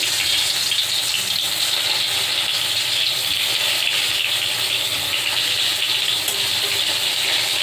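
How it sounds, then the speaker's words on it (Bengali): Eggplant pieces frying over low flame in a karai of hot oil for fish curry, a dense continuous hissing sizzle at a constant level throughout, close up. "বেগুনগুলো দিয়ে দু তিন মিনিট লো ফ্লেমে ভাজব"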